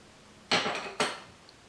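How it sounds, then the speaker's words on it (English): A coconut shell tapped along its pre-scored equator to crack it open, two sharp close knocks about half a second apart, each with a short ringing decay, then quiet. "tap the coconut shell around the equator, the pre-scored line, until you completely crack open the coconut shell"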